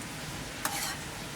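Garlic, chilli and cumin sizzling in a hot pan for spicy thecha, a steady frying hiss with a sudden brighter crackle and stir midway, close and alone without talk.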